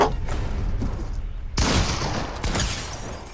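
Gunfire in the Fortnite video game, dense bursts of shots cracking out continuously, with a sharp louder volley midway and another near the end, filling the whole stretch without talk.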